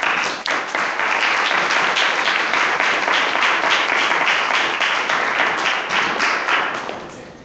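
A city council candidates' forum audience applauding as a moderator is welcomed, a dense, steady wash of clapping that lasts several seconds and then fades.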